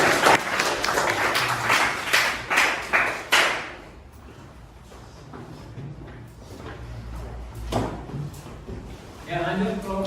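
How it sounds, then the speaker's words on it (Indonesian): Classroom applause for a student group in an automotive class, several seconds of fairly loud, uneven clapping from a small group that stops abruptly, followed by quiet room noise and a voice speaking. "Ya, tepuk tangan untuk kelompok 3."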